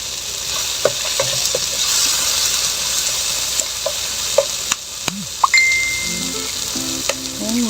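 Cabbage fries in a pan with a continuous sizzle, broken by sharp clinks and scrapes of a utensil stirring it, close and clear with no talking.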